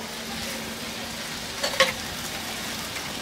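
Radhuni spice and ginger paste frying with partly cooked vegetables for shukto, a soft, even sizzle throughout with a brief stirring scrape near the middle.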